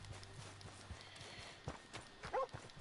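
Horse hooves clip-clopping in Red Dead Redemption 2, a few faint irregular hoof thuds in the background with quiet ambient game sound.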